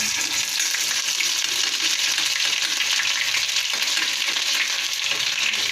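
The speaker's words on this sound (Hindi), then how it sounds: "अब मेरा तेल गरम हो गया है, इसको मैं धीमा कर लेंगे और इसमें डाल देंगे ये जो लहसुन का मैंने पेस्ट बनाया था" Garlic paste sizzles steadily in hot oil over low heat, a loud, dense, continuous frying hiss with no speech.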